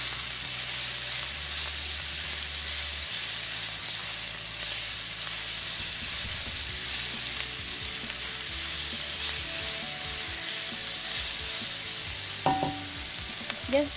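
Leek and minced garlic sautéing in olive oil, a steady close sizzle lasting throughout, with occasional stirring scrapes and a brief clink near the end; no talking.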